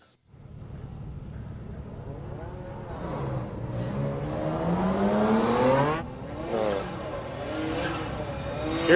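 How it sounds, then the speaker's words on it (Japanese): A twin-turbo R&T Factory GZ20 Soarer drift car rips around the Sugo circuit during Formula Drift Japan qualifying, its engine note rising and falling as it revs, heard at a distance under commentary. "Beautiful car, ripping around. Right there, he's rocking twin turbo still underneath that hood."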